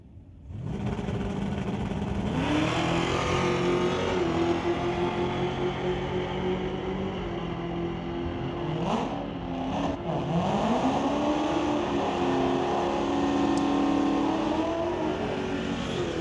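Chevy and Ford street cars drag race at Mission Raceway's Friday Night Street Legals, engines revving hard and climbing through gear changes, a loud sustained roar with pitch sweeps and passing whooshes.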